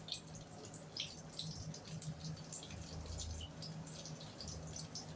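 Breaded chicken-breast kofta fingers fry in a pan of plenty of oil, a steady close sizzle with fine crackling pops running throughout at a moderate level, with no voices.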